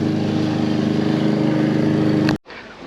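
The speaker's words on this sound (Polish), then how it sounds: "Jak zwykle kosiarka pracuje jak tylko człowiek chce coś nagrać" A lawn mower drones steadily nearby with a constant buzzing motor hum, then cuts off abruptly near the end, leaving a quieter background.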